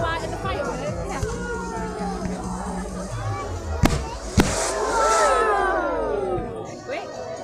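Bonfire night fireworks outdoors, with a few sharp bangs standing out near the middle over a continuous crowd chatter and babble, people talking throughout.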